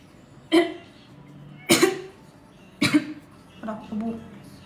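Four separate coughs, close and sharp, spaced about a second apart, the last one softer and broken into a couple of smaller bursts.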